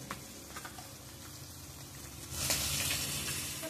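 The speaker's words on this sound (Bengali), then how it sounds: "কালো জিরে ফোড়ন দিলাম আর তেজপাতা ফোড়ন দিলাম" Nigella seeds and a bay leaf sizzle in hot oil in a pan for Bengali rui posto, a soft steady frying hiss that swells louder partway through.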